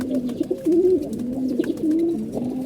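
Pigeons kept in a loft cooing close by, a continuous rolling, warbling coo that swells and dips in repeated phrases over faint background noise.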